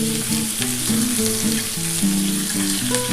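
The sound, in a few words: papaya and vegetables frying in a pan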